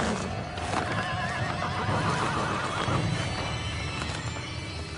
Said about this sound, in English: the more their horses kick up a fuss